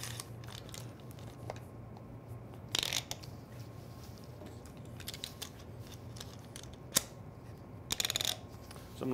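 Wooden boards being clamped down in an epoxy resin form, with a few brief ratcheting clicks and scraping bursts against a quiet background, close and fairly faint, no talking.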